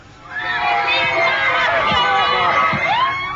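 Hundreds of fans packed into Perth Airport waiting for Oasis, a loud, continuous roar of excited shouts and high-pitched screams with crowd babble throughout.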